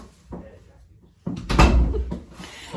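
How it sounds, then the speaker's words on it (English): A door pushed shut indoors in a home, landing as a single solid thud that rises out of quiet room tone and then tails off with faint handling noise. "I'm going to close the door"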